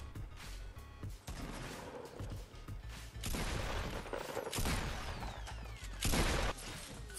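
Gunfire in the video game Fortnite, with loud bursts of shots and clattering mechanical sounds in several dense waves across the clip and no talking.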